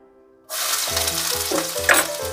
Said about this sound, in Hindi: अब मैं इसमें ऐड करूंगी बारीक कटा हुआ प्याज